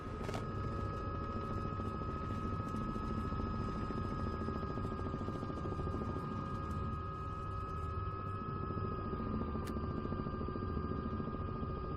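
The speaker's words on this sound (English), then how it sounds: "That's great helicopter noises there." A video game helicopter engine in Microsoft Flight Simulator 2024 drones steadily with a constant whine and low rotor rumble, unchanging and fairly quiet, with a couple of faint clicks.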